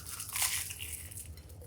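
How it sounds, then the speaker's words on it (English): A bite into crunchy fried cabbage finger food served for a holiday meal: a single crisp, crackling crunch up close, quiet and short, fading into soft chewing. "Really crunchy on the outside and really moist on the inside"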